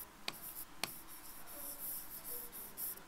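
Chalk or marker writing on a board during a Bengali literature class: two sharp taps followed by a steady scratchy stroke run, close and fairly quiet, with no speech.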